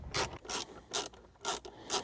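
Torx screws being driven back into the gear selector trim of a Ford F-150 interior, heard as five evenly spaced ratcheting bursts, close and crisp with short pauses between.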